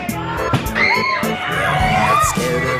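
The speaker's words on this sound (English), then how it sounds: "Can't you hear the screams from inside?" Screams and shrieks ring out from inside a haunted house attraction at a Halloween theme park, overlapping yells and loud bangs rising above a busy, noisy crowd.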